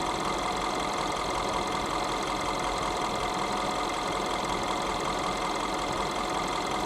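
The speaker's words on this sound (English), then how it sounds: "Should hear the engine RPM drop any second" A car engine idles steadily and evenly, a continuous mid-pitched rumble with no speech.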